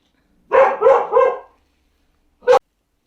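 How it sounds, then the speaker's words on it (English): A dog barks three times in quick succession, then after a short pause gives one more sharp bark, close and loud. "If you hear my dog barking or heard my dog barking on that"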